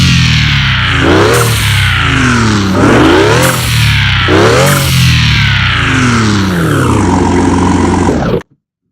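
A Porsche sports car engine in the video game Car Mechanic Simulator 2021 revs repeatedly in loud, rising surges, each climb followed by a drop, then settles into a steady idle before cutting off.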